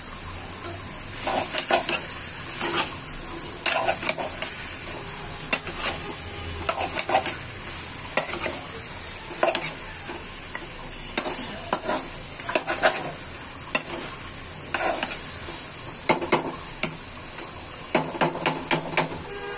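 Broiler chicken curry frying in a pot while being stirred, a constant sizzle broken by repeated clanks and scrapes of a ladle against the metal, close up with no talk.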